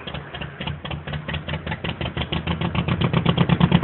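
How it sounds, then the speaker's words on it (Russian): A small boat motor on the Black Sea at Anapa starts and settles into a rapid, rhythmic putter that grows steadier and louder toward the end. "Завелся мотор."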